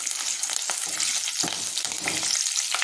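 Steady, crackling sizzle of green chillies frying in hot oil with urad and chana dal for upma, loud and close, with a few brief stirring scrapes and no voices.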